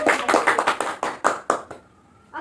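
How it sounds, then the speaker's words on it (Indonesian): A small group claps hands together in an eldercare group activity therapy session for seniors, a quick burst of close, sharp claps in an uneven rhythm that tapers off, followed by a short pause and one final faint clap. "kita tepuk tangan untuk kakek Andeni."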